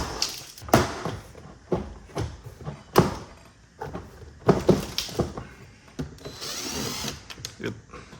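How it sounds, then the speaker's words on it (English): A 2013 Ford Focus front driver door panel is pried off, giving a series of sharp plastic clip pops and cracks at irregular intervals, close and fairly loud, mixed with rattling and scraping of the trim. "Pop this door panel off."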